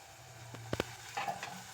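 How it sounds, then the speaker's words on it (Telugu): Onions fry in a pan for a drumstick-leaf moong dal, giving a faint, low sizzle broken by a few soft stirring clinks and scrapes. "బాగా ఫ్రై అయితే మూత పెట్టడం వల్ల ఉల్లిపాయ ఎలా వేగిందో చూద్దాం"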